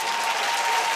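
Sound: comedy club audience clapping

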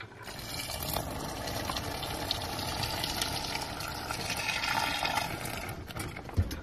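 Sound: water being poured

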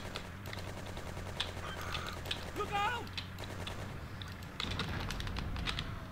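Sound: gunfire in the video game Just Cause

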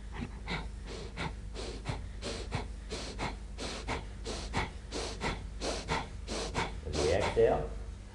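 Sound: deep belly breathing during qigong exercise

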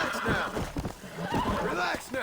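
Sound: horse neighing in video game Red Dead Redemption Mobile

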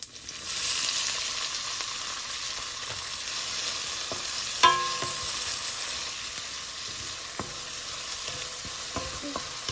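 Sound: onions frying with cumin in pan until browned

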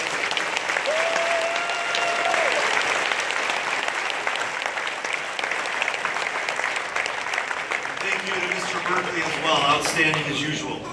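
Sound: audience applause at junior high graduation

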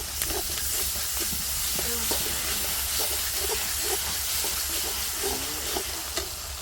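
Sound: ginger paste added to hot pan, sizzling

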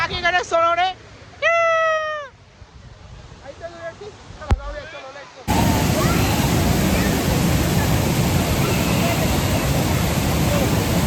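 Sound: waterfall at Tamhini Ghat

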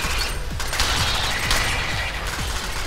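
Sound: gunfire in the video game Alien Swarm

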